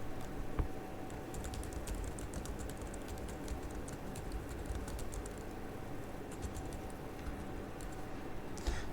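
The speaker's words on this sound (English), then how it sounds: "press the enter key on your keyboard" Computer keyboard keys clack in irregular bursts of quick taps, close and fairly soft over a steady room hum.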